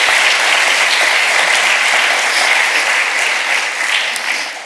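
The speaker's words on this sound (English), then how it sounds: "I'd like you to give them all a round of applause." Loud, sustained applause from a conference crowd at an opening ceremony of an academic animal studies conference, a dense even roar of many hands that eases slightly near the end.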